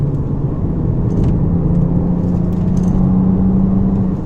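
A 2009 BMW 135i on Nitto NT555 tires is driven hard into a corner, a steady loud cabin engine drone with a slowly rising tone and a low road rumble, without talk.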